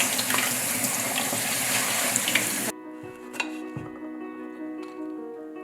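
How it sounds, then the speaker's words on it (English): Rice washed in a bowl under a running kitchen tap gives a loud, steady rush of splashing water for a few seconds. The tap then cuts off, leaving faint drips and small knocks nearby. "This bowl comes in really handy when you're washing rice or vegetables."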